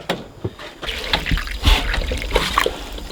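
Distilled water pouring and trickling into a container during solar battery maintenance, with small splashes and drips over a steady liquid flow, close by.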